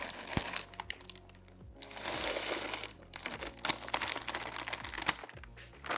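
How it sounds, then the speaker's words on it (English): A plastic bag of frozen corn crinkles loudly and repeatedly up close as half of it is poured out, crackling in bursts with a sustained rush of kernels in the middle. "I'm gonna do half a bag of corn."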